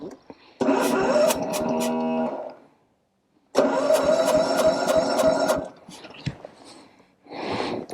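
A 1950 Cushman Turtleback scooter engine cranks and sputters in two loud, close attempts separated by a silent gap, followed by a shorter burst, with a voice talking briefly.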